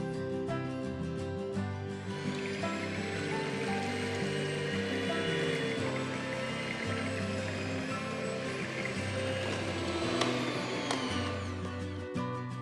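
An electric beater whirs through eggs, milk and vanilla essence for a Christmas cake batter, a steady close motor drone with a brief pitch shift near the start and a sharp scrape near the end.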